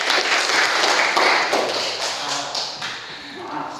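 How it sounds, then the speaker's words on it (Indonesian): A classroom of vocational school students clapping together, a dense burst of hand claps that fades gradually over a few seconds, with voices mixed in. "Tepuk tangan untuk kami."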